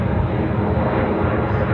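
Airplane passing overhead outdoors, a steady broadband engine roar that stays loud and even throughout, with no other sounds standing out.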